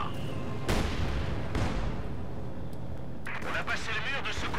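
In the video game Company of Heroes 2, explosions blast a hole in a wall, with two heavy booms and rumbling gunfire under steady talk and battle noise.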